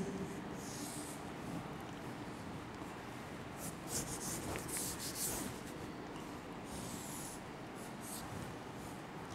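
Pen or pencil writing digits by hand on paper, a continuous soft scratching and rubbing, close and quiet, with no voice over it.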